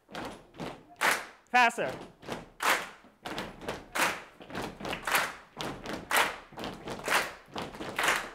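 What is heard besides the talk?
feet stomping in rhythm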